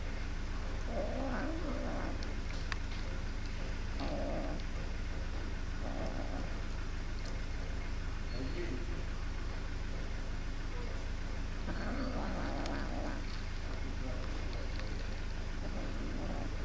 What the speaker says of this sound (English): Angry and hungry black kitten.